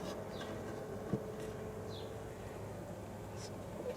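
Honey bees fanning at the entrance of a hive give a low, continuous buzzing drone, faint and steady, with a few individual bees passing close by with brief rising whines.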